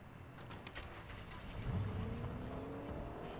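A car engine drones and revs in a video game, with a steady mid-level motor hum that rises slightly partway through and holds, with no talking over it.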